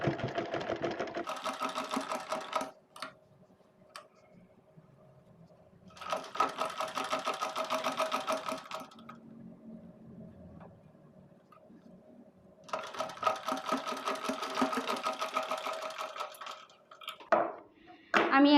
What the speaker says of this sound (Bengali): এখন আমি এইভাবে এইটুক সেলাই করে নেব।